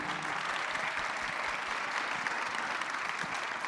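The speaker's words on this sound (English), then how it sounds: "can you please put your hands together for our panel?" Steady, continuous applause from the audience at a community college student leadership summit for a panel, a dense, even wash of clapping at moderate distance with no pauses.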